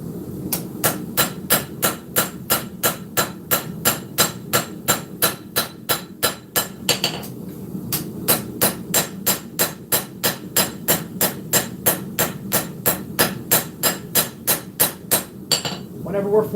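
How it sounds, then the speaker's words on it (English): Steady hammer blows forge the spine of a steel kwaiken knife blade on an anvil, the piece held tilted and struck at an angle, ringing in an even, rapid rhythm of about two and a half strikes per second with one brief pause. "we're hammering at an angle, and the steel is angled on the actual anvil"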